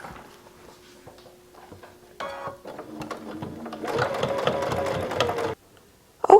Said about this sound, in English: Then stitch around the top edge along the edge of the binding.